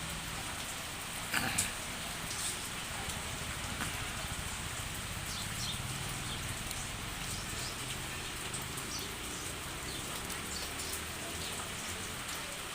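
Rain that has just begun falling in a village in the morning, a steady even hiss of drops on surfaces throughout, with a few faint clicks early on and no voices.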